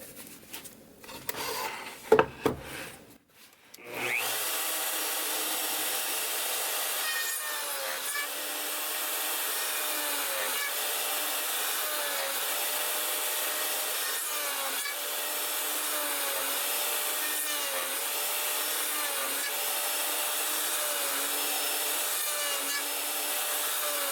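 A wooden bowl carved with a Japanese-style Naguri pattern using a jig: after a few close knocks, a steady continuous power-tool whir with faint rhythmic rubbing pulses runs on evenly.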